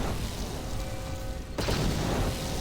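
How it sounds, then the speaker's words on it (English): Explosions boom across a starship bridge in Knights of the Old Republic, a noisy rumbling wash punctuated by a sharper burst midway, dense and continuous with no talk. "should I really be on the bridge if there are explosions everywhere?"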